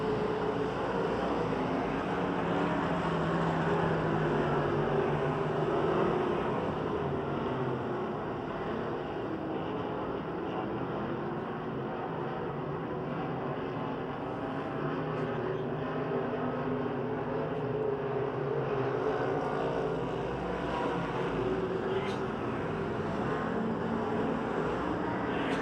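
Race cars roaring around the oval at Pennsylvania Motor Speedway, a continuous dense engine drone that swells and recedes slightly as the pack moves through the turns.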